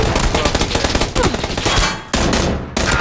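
Rapid bursts of automatic gunfire from PUBG played on Xbox One crack out close and loud in dense, overlapping volleys, with a brief lull near the end before the shooting resumes.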